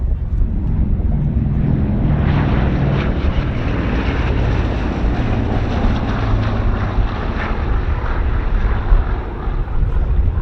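The vintage World War II bomber Fifi roars overhead at a World War II Weekend airshow as a loud, continuous rushing engine drone, with steady wind buffeting throughout.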